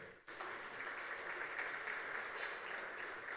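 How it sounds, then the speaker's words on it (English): Steady applause from an awards ceremony audience at the Ghana Expatriate Awards, starting abruptly after a brief pause and continuing evenly, heard faintly from a distance. "A round of applause for him."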